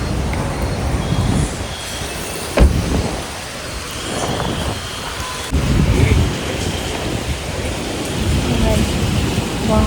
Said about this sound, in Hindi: आज देखो बाहर बारिश हो रही है बहुत ऐसी